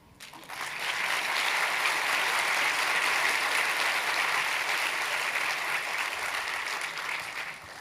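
An audience in an interview hall breaks into loud, dense applause that starts abruptly and holds steady as a thick wash of clapping to the end.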